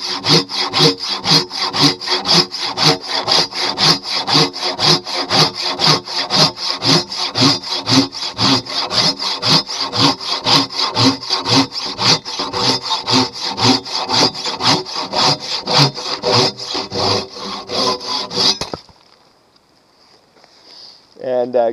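A Silky Katanaboy 500 hand saw cuts through wood rounds in steady, loud, rapid back-and-forth strokes for about nineteen seconds. The sawing then stops abruptly, leaving near quiet.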